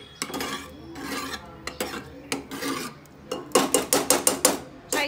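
A metal ladle scrapes and clinks against cooked lentils and the sides of a pressure cooker, close and sharp, with repeated rhythmic strokes that grow quicker toward the end and no talking.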